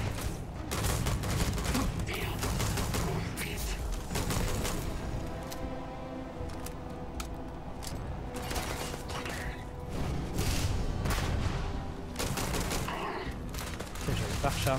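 Sustained rapid gunfire aimed at creatures in Starfield, a dense, loud stream of shots and mechanical clatter running throughout, with a voice talking over it.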